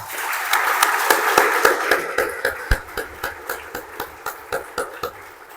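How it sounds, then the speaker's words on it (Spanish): A church congregation at Sunday Mass applauds for a birthday, the clapping starting dense and then settling into an evenly spaced rhythmic beat that gradually fades and slows toward the close. "Vamos a darle un fuerte aplauso a ella"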